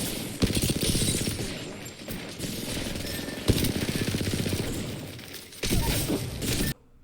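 Rapid automatic gunfire hammers against Gibraltar's shield in the video game Apex Legends, dense bursts of shots with brief gaps and sharp impact cracks, loud and close.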